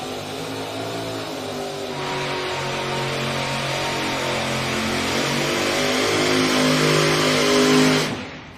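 A New York State pulling tractor revs hard at the hook during an NTPA Grand Nationals pull at the DeKalb County Fair, a loud, sustained engine roar climbing steadily before cutting off abruptly near the end.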